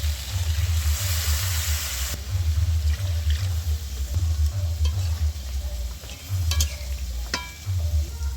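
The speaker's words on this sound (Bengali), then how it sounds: "এবার আমি পরিমাণ মতো জল দিয়ে দিচ্ছি।" Water poured into a pan of potato and spice curry, splashing and sizzling over a pulsing low rumble, with scraping stirs and a few sharp clinks near the end.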